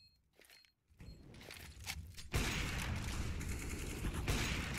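Sniper rifle fire in a competitive CS:GO playoff match: after quieter footsteps and scuffling, a loud sharp shot lands near the midpoint, followed by sustained dense gunfire and action noise through to the end.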